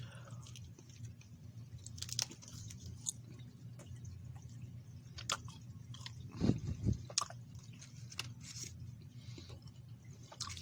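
Someone chews a gummy, sticky ration-pack bar of nougat, caramel and chocolate close to the mic, with quiet wet squishes, small clicks and a few louder bites.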